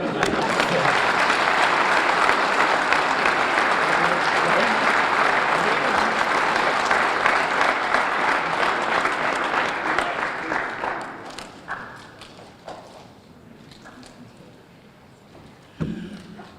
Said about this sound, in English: give yourself a nice round of applause for joining us tonight